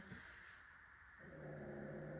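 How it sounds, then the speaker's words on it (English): A dog lets out a low, rumbling growl close by, soft and brief over a steady background hum. "uh-oh, a little growl."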